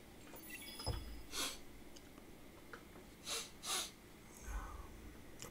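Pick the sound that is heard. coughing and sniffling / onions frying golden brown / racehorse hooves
coughing and sniffling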